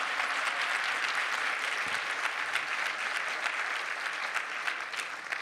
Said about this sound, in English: clap it up for them, please